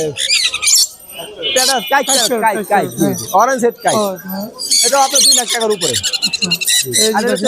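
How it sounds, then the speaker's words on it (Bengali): A red lory parrot at the Mirpur 1 bird market gives loud, shrill, repeated squawking calls up close, in rapid rising and falling bursts with scarcely a pause. "আর এই যে রেড লরি এটাও আপনার মোটামুটি ভাবে রেড ব্ল্যাক আর লরি"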